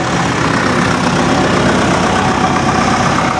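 A road roller's diesel engine idles after a starter wire repair, a steady, loud, unbroken rumble close by, with no voices over it.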